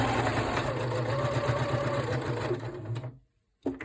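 A sewing machine stitches a shabby chic fabric cover, running in a steady close whirring buzz before stopping abruptly, followed by a brief silence and a small click.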